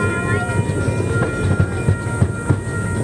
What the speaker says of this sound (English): This is going to be the actual train ride itself.